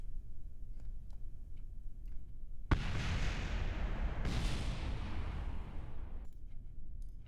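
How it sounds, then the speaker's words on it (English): Explosions in Kerbal Space Program on hard mode: a sudden muffled boom opens a rumbling burst of roaring noise lasting a few seconds over faint ticking, then fades, with no talking. "I just hear all the explosions off in the background."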